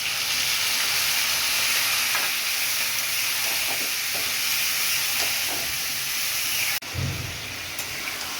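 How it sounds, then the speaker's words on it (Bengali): Potatoes frying with cumin, coriander, ginger and chilli give a loud, steady sizzle, with occasional stirring scrapes, before a sharp burst of hiss near the end. "আমি এর মধ্যেই মশলা দিয়ে কষিয়ে নেব"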